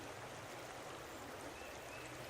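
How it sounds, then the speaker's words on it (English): Water rushing along a stream swollen by heavy rain in the bush, a steady broadband wash of flow that is faint and continuous throughout, with no voices. "Today we have the wonderful sound of the water rushing again"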